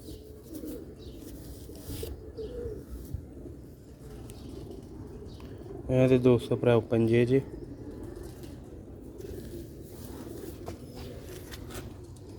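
Pigeons on a Sialkot rooftop coo in one close, pulsing burst of about a second and a half, under steady talk and faint background bird chatter.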